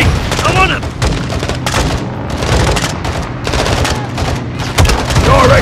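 Dense battlefield din from Call of Duty Modern Warfare 2 in Urzikistan, with rapid gunfire and a booming rocket launcher blast and explosion, loud and continuous throughout.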